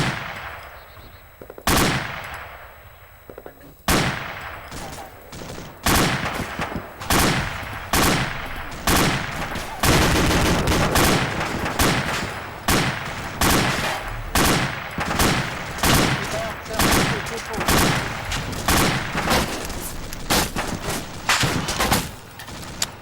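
Mounted gun firing during squad operations training: loud, sharp bursts and single shots repeat steadily for the whole stretch, close and unbroken by talk.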